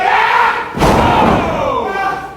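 A tilt-a-whirl body slam at a pro wrestling match lands as one heavy thud on the ring mat, with a crowd murmuring around it and commentary voices before and after.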